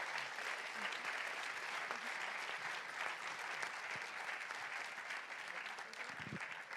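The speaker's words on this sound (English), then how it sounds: "Let's have one more round of applause for Siobhan and for all of you." Audience at a talk applauding for a speaker, a full, sustained round of clapping from many people, even and continuous from start to finish.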